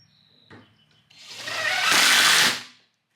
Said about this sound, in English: I drove a few temporary screws to hold the pieces of sheathing in place without the clamps.